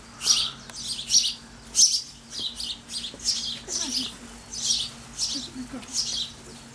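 Hungry baby birds being fed by their mother give rapid, high, insistent chirping cries in repeated bursts, about ten over several seconds, close and fairly loud.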